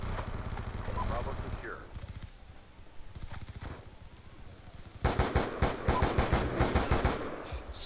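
Death Machine rapid-fire gunfire in a Call of Duty Black Ops 2 multiplayer match, with scattered shots early and then a dense, loud run of rapid automatic bursts near the end, with a voice talking over parts of it.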